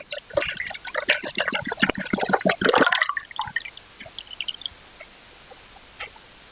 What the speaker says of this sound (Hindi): मेरे पास यहाँ पानी की बोतल है और इसमें मैं पानी डाल रही हूँ।